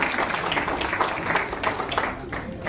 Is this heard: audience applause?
yes